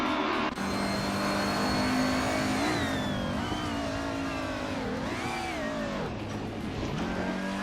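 A 2014 Abarth 500 in the Assetto Corsa racing game, its engine droning loud and continuous with pitch rising and falling through gear changes and throttle, over faint tire noise.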